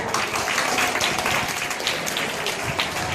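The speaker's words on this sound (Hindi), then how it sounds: "एक बार तकबीर से पहले ताली बजाई जाए।" An audience at a boys' school annual day breaks into loud, dense clapping that carries steadily throughout, with faint voices in the background.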